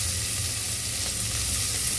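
Onion, garlic and green chilli sizzle steadily in a pan for a ridge gourd gravy. A constant, loud frying hiss fills the moment, with no voices over it.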